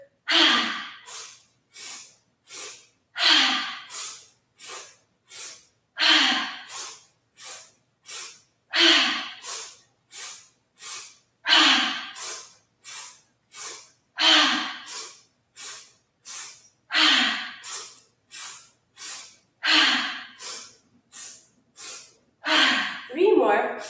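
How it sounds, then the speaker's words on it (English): Rapid, rhythmic sniffing breaths during a yoga vinyasa breathing exercise, sharp inhales in repeated triplet-like groups with brief pauses between, close and clear across the whole stretch. "Sniff, sniff, sniff."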